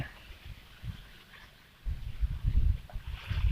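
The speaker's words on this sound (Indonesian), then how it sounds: "anginnya terlalu kencang," Strong wind at an outdoor fishing spot buffets the microphone with low, uneven rumbling gusts that grow louder and heavier after the first couple of seconds.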